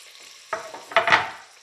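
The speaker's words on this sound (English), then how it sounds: "I'm adding the leeks and the onions to the pot and to the butter" Leeks and onions drop into melted butter in a soup pot, setting off a sudden rising sizzle. A few bursts follow as the vegetables settle, growing louder and close by with no voices.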